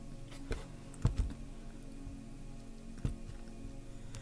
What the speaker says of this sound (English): I'll finish shuffling through